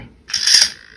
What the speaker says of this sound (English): This front servo is so slow.